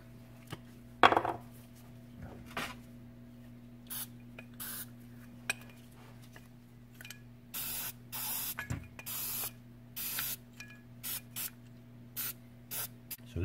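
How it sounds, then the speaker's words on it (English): Aerosol cleaner hisses onto carburetor parts and new gaskets during a motorcycle carb rebuild, coming as a series of short close bursts over a steady low hum. "Spray these out."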